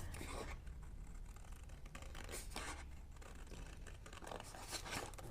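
A traced snow globe base being cut out, giving a quiet, continuous scratchy rasp of cutting with small tearing and crinkling accents, close and faint, with no talking.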